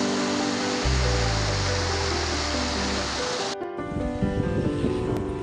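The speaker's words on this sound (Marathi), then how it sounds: "तुम्ही घर बसल्या हा धबधबा बघा" Monsoon waterfall at Panhala near Kolhapur in heavy rain, a loud continuous rushing roar of falling water, with a sudden shift partway through to a rougher, gustier wash.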